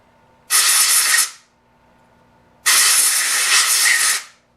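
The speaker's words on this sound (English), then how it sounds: "Run some alcohol down below there to wash off the excess Loctite that's squished out." Alcohol is sprayed to wash squeezed-out Loctite off a swivel toolholder, two close, loud hissing bursts of about a second each separated by a short pause over a faint background hum.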